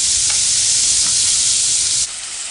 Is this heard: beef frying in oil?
yes